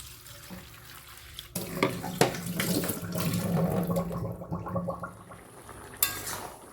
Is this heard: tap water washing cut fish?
yes